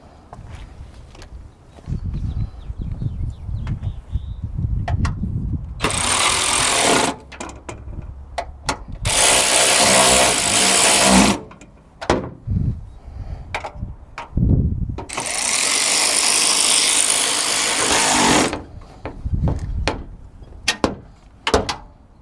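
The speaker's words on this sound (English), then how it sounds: "we'll go ahead and start tightening things down" A 10mm nut is tightened on a coil stud of a Toyota Highlander during spark plug and coil replacement, with two long, loud bursts of motorized ratchet whirring and scattered clicks and clanks of tools in between.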